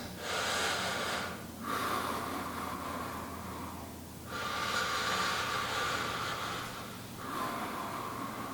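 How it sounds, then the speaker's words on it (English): Deep, slow breaths taken by a person sitting during a guided exercise, three long inhale-exhale cycles close to the microphone, each a steady airy rush followed by a brief pause. "Nice deep breaths."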